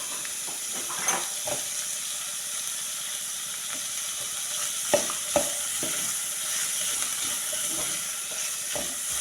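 Meat frying in a pot for a rice pilau dish, with a constant bright sizzle underneath. Scattered scraping stir strokes and a few clicks of the utensil against the pot sit on top of it.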